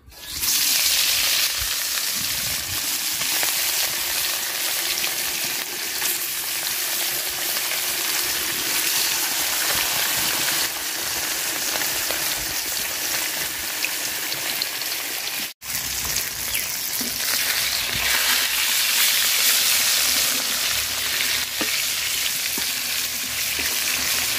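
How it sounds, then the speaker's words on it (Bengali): Fish fries in hot oil in a pan, a loud, continuous close sizzle and crackle that stays dense and even for a long stretch, with one brief break midway. "তো তেল গরম হয়ে গেছে, মাছ দিয়ে দিলাম।"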